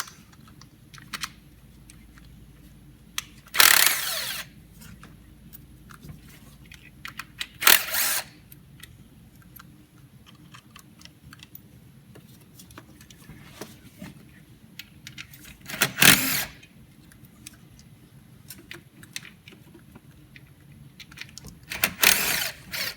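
A power tool backing out coil pack bolts on a Silverado engine, four short loud bursts of whirring spaced seconds apart, with quiet clicks and handling noise between them and no talk.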